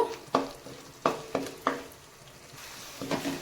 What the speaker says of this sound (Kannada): ಇದು ಎಣ್ಣೆ ಬಿಡುವರೆಗೆ ನಾನೀಗ ಸ್ಲೋ ಉರಿಯಲ್ಲಿ ಕುದಿಸ್ತೇನೆ